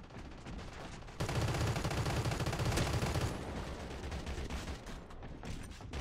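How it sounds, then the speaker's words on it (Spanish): Sustained bursts of gunfire from enemies shooting down from above in the video game Crossfire X. The shooting swells loud after a second and rattles on steadily with little pause. "No pueden estar disparando de arriba"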